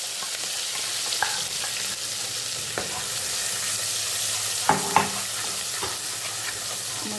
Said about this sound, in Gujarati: સહેજ હિંગ, લીલું લસણ અને 2 મરચું અને લવિંગ અને 2 કાળા મરી અને સાંકળી લઈશું એકદમ